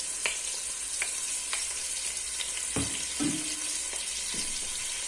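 Onion fries in melted butter in a pot, giving a steady, close sizzle with occasional soft stirring clinks and scrapes, and no voices.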